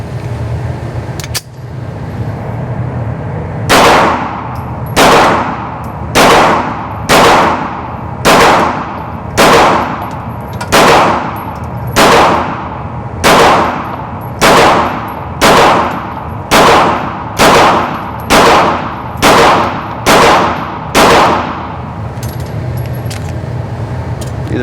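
A Ruger American pistol fires at an outdoor range, about sixteen loud, sharp shots in a steady, evenly spaced string, each with a short decaying echo, over a constant background rumble.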